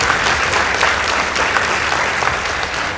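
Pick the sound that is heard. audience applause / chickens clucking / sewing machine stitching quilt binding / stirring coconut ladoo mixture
audience applause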